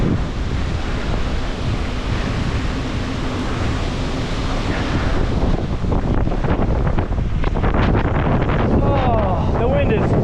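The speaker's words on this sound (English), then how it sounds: "Oh, the wind is definitely picked up. It is blowing my entire bike in various directions." Hurricane Ian's wind roars during a storm in Charleston, South Carolina, a loud, constant buffeting rush battering the microphone, with gusty surges and some rain or water noise mixed in.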